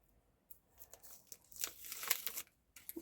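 A sticker peeling away from a backing, a short crackly tearing sound in a few quick pulls, close and quiet.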